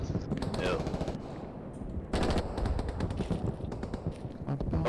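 Loud, dense gunfire from Hell Let Loose on PS5, with rapid machine-gun bursts and rifle shots crackling almost continuously in close succession, and faint voices mixed in at times.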